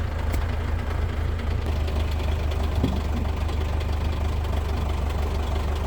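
A tractor fitted with a bucket loader idles on a farm in Russia, its engine a loud, steady, close low rumble with a faint knocking pulse that runs unbroken throughout.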